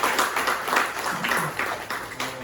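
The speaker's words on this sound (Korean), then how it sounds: "큰 박수 부탁드립니다." Audience applause at a seminar on North Korean human rights law held by a national research institute, a steady wash of many hands clapping at moderate volume for a few seconds.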